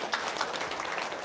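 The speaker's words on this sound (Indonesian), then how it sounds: "Tepuk tangan dulu dong." Brief burst of applause from an audience at a testimony gathering, a dense, even patter of many hands lasting about a second.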